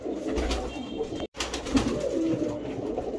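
Pet pigeons kept at a home coo in soft, repeated low phrases close by, with a momentary break partway through and no talking.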